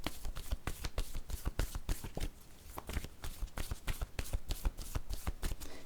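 A deck of cards being shuffled up close, quick riffling bursts and soft slaps repeating in an uneven rhythm, fairly quiet with no speech.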